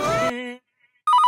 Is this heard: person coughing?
no